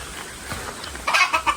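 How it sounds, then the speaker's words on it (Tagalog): Farm chickens clucking close by, a few soft low calls followed by a louder burst of rapid clucks, with no talk over them. "Marami ng manok dito."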